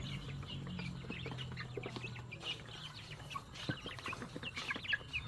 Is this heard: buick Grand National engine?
no